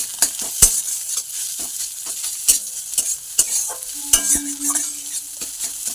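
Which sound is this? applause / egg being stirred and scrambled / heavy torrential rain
egg being stirred and scrambled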